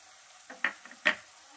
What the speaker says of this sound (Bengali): আমি একটু নেড়ে নিচ্ছি